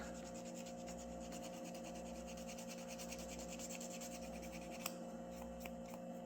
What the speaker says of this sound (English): So the cool thing about it is you can also use it to sand with